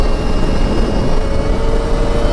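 A Stark Varg electric dirt bike set to 40 horsepower, ridden hard through an abandoned waterpark, gives a steady, loud whirring rush of motor and wind that holds without a break.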